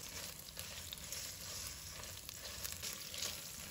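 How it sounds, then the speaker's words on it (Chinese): Tofu pan-fries in a wok with a soft, even sizzle that crackles faintly and continues without a break. "全部翻好后，再煎至金黄。"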